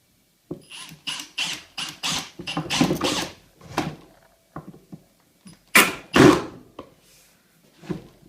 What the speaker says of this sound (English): now we're ready for a couple screws.